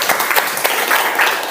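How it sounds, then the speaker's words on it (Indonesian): Brief burst of classroom applause as schoolchildren clap for a classmate, a dense patter of many hands close by, lasting just over a second. "Tepuk tangan buat teman kalian"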